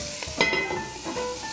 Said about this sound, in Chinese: 让它慢慢煎